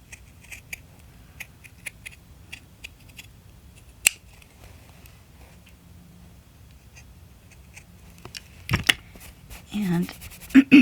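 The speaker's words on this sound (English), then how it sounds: "I'm going to also make this scalloped with my nifty little scalloped scissors." Scalloped scissors snip through fabric in quiet, sparse cuts with soft ticks and one sharper click, while a voice speaks briefly near the end.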